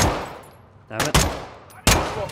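Three sharp, loud gunshots ring out in Call of Duty Modern Warfare II gameplay, the first two close together and a third after a short pause, each with a quick decaying tail over a quiet background.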